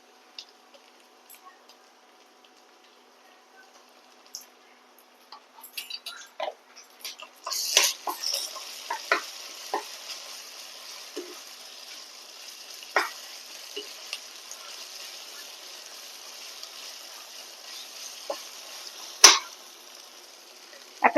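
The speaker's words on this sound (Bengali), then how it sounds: "ভাজা হয়ে গেছে, এরপরে দিয়ে দিচ্ছি আদা রসুন বাটা।" Ginger garlic paste hits a hot pan for chicken bhuna with a sudden sharp sizzle, then settles into a soft, steady frying hiss broken by scattered scraping stir clicks.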